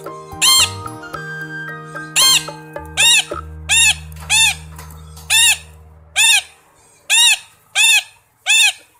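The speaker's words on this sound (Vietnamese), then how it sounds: "Con vẹt." A parrot squawks loudly and up close in a steady series of about nine harsh calls spaced roughly a second apart, over a short musical intro at the start.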